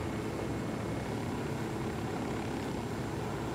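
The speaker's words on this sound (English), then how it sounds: "A helicopter is the shit in this game." A helicopter in the video game Ghost Recon Wildlands gives a steady, dense rotor and engine roar that stays loud and unbroken throughout, with no talk.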